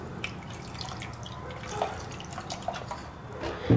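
Water trickles and drips into a pot of simmering mutton khorma, a light, close, steady splashing with small drips, ending in a brief louder pour.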